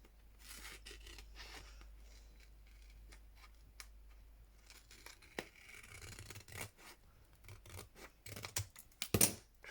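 Paper being trimmed with scissors for a grungy fabric-spine junk journal, a run of crisp snips and rustling cuts, faint early on and growing louder and busier toward the end, with no talking.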